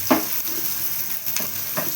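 Onions sauté in a hot pan for restaurant-style chilli chicken 65 gravy. A steady, close sizzle is broken by a few brief stirring scrapes.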